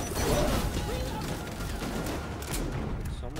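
Dense, continuous video-game gunfire aimed at enemies, loud and cluttered with mechanical clatter and impacts throughout, with no pauses in the barrage.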